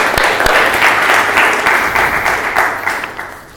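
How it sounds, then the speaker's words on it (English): Conference audience at linux.conf.au applauds, a dense wash of clapping that stays steady and loud, then tapers slightly near the end. "So if you could all give yourselves a big round of applause,"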